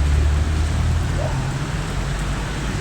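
Steady rain hisses continuously, with a low rumble of traffic or distant noise underneath and no voices.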